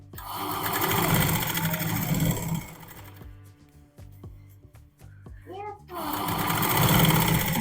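A sewing machine runs in loud, steady bursts while top-stitching the lining of a kurti, pausing for a few seconds of quiet handling and small clicks before the rapid stitching resumes; a voice talks over it at times.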